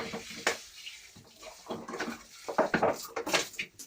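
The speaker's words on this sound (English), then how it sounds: "you can kind of see me put a little bit of water in some of these." Water splashes and trickles into potted plants during winter outdoor prep, in short irregular pours and spatters with faint knocks of pots being handled, fairly close, with no talking.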